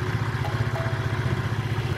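Car engine idling steadily at about 1850 rpm during fault diagnosis, a continuous low rhythmic hum with a fine pulsing throb, close and even throughout with no talk.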